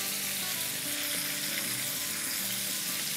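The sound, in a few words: fish pieces frying in a pan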